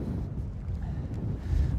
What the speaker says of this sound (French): Le vent est droite-gauche et contre.